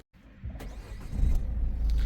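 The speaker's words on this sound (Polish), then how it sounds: "ja odpalam samochód" A Peugeot 3008 with a 1.6 BlueHDi diesel engine starts up, a brief crank followed by a low, steady idle settling in quietly, close by with no voices.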